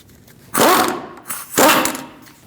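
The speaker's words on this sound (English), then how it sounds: "Now we're going to take off this nut with an 18mm socket." An impact wrench or ratchet spinning off a front brake nut with an 18mm socket on a 2002-2006 Toyota Camry, two loud close bursts of mechanical whirring, each about a second, separated by a short pause.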